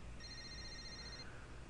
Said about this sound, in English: A beeping noise suddenly emanates from Mrs.